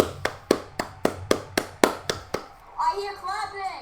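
Eight brisk hand claps at a steady, quick rhythm, close and crisp, from a person watching a SpaceX Starship livestream; the claps stop and excited voices talk over a background stream.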